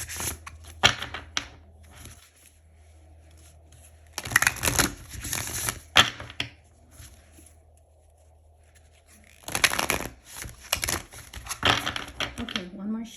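Oracle cards are shuffled by hand in three bursts of riffling and slapping, crisp and close, with quiet stretches between them.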